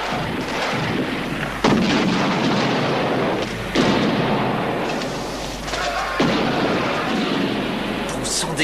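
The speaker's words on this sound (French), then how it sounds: "Bon sang, des grenades. Il lance des grenades, Bernie." Grenades blasting in a desert battle scene, a steady roar of heavy explosions and gunfire with several sharp booming hits cutting in, loud and close throughout.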